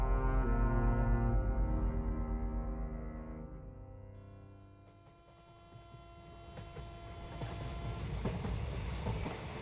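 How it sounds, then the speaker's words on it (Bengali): A running train as an audio-story sound effect: a sustained, humming horn-like tone that fades, then swells into a rolling, clattering rumble with no voices. "ট্রেন চলতে শুরু করেছে অনেকক্ষণ হলো।"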